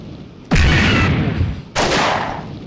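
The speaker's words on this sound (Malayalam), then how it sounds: "ഹണ്ടർ ബോയ് ഒരു ബോംബ് എടുത്ത് വീശിയിരിക്കുകയാണ് ഗൈസ്" In a video game, a thrown bomb explodes in two loud, close booms roughly a second apart, each a sudden blast that decays into a rushing, rumbling tail.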